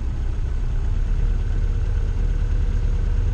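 A BMW M10 2.1-litre four-cylinder on Dellorto DHLA 40 carburetors idles steadily, a close, even low rumble with no changes in revs throughout.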